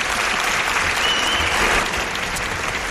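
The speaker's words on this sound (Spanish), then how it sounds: "Un aplauso tuyo para él." Studio audience at a Spanish television special in Murcia applauding steadily, a dense, even clatter of many hands filling the space without talk.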